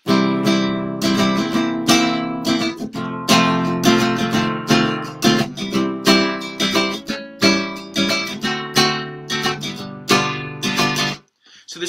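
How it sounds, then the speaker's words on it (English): Rhythmic guitar strumming of The Bear Necessities from The Jungle Book, with steady down-and-up strokes for about eleven seconds, loud and close, ending abruptly with a brief pause. "So the rhythm sounds something like this."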